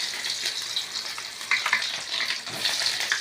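Onions fry in oil after mustard seeds have popped, for chicken pallipalayam, a bright, steady close sizzle with a few sharper crackles.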